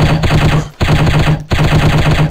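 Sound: gunfire in the shooting video game Striker

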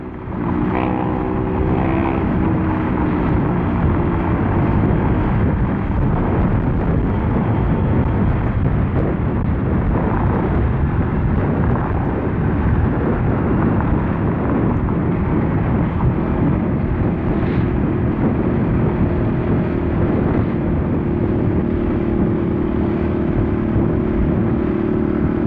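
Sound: Honda PCX 150 scooter engine revving

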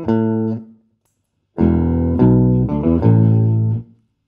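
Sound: guitar through octaver effect, OMEC Teleport interface

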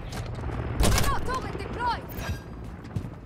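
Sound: gunfire in a shooter video game

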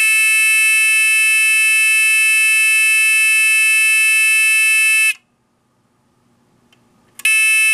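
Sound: electronic buzzer on control panel

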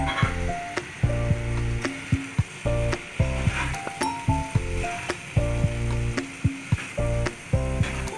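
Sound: stirring mushroom fried noodles in a pan

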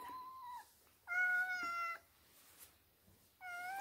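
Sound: cat meowing

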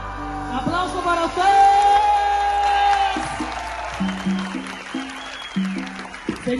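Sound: audience applause at a concert

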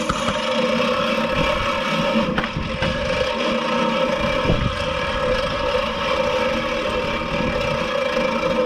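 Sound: Gardena reel mower running after blade sharpening

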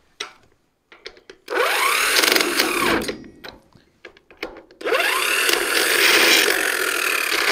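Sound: trailer wheel nuts being wound back on

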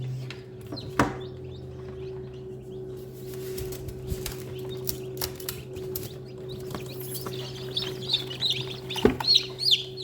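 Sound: newly hatched chicks chirping

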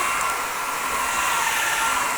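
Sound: Dreame Mova K10 Pro vacuum cleaner running on carpet

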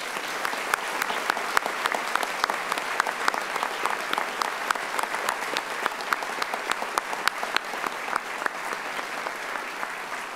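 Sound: audience applause

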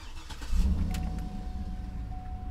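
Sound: Cadillac car engine running

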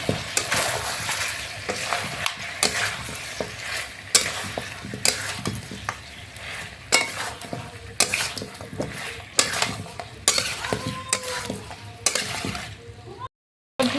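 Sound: spice paste being added and stirred in a frying pan

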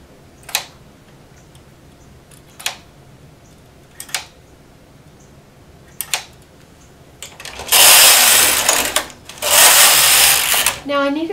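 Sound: knitting machine carriage knitting a row

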